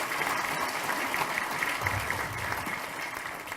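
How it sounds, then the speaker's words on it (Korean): A political party rally audience applauds in a large hall, a steady wash of clapping from many hands that holds at a moderate level throughout with no voices over it. "당원 동지 여러분 큰 격려의 박수를"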